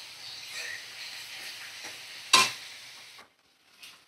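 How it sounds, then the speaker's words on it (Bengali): Onions seasoned with salt and Kashmiri red chilli powder fry in a pan, a soft steady sizzle broken by a sharp scrape of stirring, then a brief silence and a faint final stir. "দেখো ভালো করে ভাজা করে নেব পেঁয়াজটা।"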